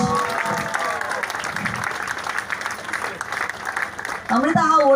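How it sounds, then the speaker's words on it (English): An audience at a charity rain-run prize ceremony claps for the young women's 10K winner, a moderate continuous patter with a voice breaking in near the end. "Give her another round of applause, everyone."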